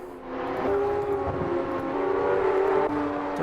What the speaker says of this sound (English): we can hear a car is in the sand again